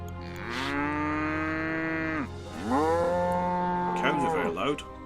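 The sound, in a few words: cows mooing in the video game Noble Legacy Kingdoms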